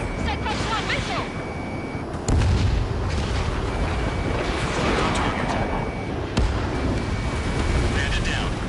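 Dense combat noise from the Ace Combat 7 jet fight, with booming impacts and a sharp blast around the two-second mark as a missile strikes a jet, followed by more rumbling hits over continuous engine roar.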